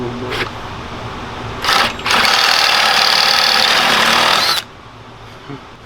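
A Coleman mini bike's 110cc engine with a cheap, thin muffler runs loud and raspy for about three seconds after a brief earlier burst, then cuts off abruptly.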